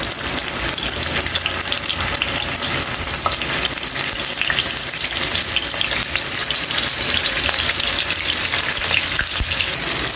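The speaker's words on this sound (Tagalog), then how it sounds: "I-fried na natin yung Tokwa." Tofu chunks frying in hot oil in a pan for adobong manok, a loud dense crackling hiss that stays close and constant throughout, with occasional pops and spatters.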